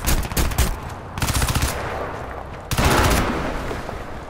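Rapid machine gun bursts in the video game Crysis 2 crackle in three loud, close volleys separated by short gaps, with no talk over them.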